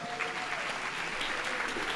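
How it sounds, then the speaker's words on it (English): A crowd at a school anniversary celebration and awards night applauds as tiles are set into a wall at its opening ceremony, producing a continuous, even wash of clapping from many people throughout. "A round of applause."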